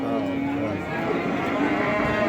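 Cattle moo at a livestock market in Beylagan, including a young bull calf, a low drawn-out bovine call held steadily over the general murmur of the market and faint voices.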